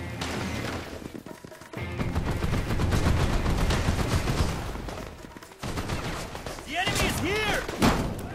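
Automatic AK rifle fire in the Mercenaries 2 video game, loud sustained bursts mixed with explosions and battle noise, with a short pause before more shooting and in-game voices calling out near the end.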